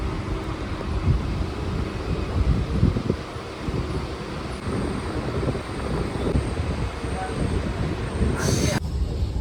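A passenger train pulls into Contai station, a loud continuous rumble of wheels and carriages with scraping metallic clatter and a brief high squeal near the end.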